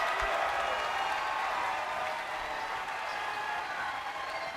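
Bangor basketball fans cheer and applaud in a gym after a win over the Panthers, a steady broad roar of clapping and crowd noise with no break, loud and continuous throughout.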